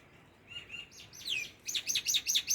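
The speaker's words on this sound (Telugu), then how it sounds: "పక్షులు చూసారు ఎలా అరుస్తున్నాయా" Birds chirp and tweet close by, a few thin calls at first and then a rapid, bright burst of repeated notes, with no talking.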